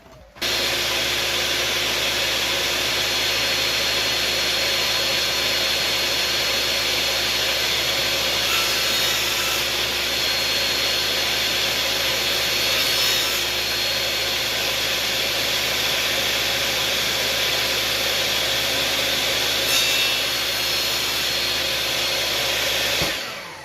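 A power saw cuts along the top edge of a curved wooden molding for an arched doorway, a loud, steady, unbroken whine with a low hum beneath it, sustained for over twenty seconds before stopping abruptly.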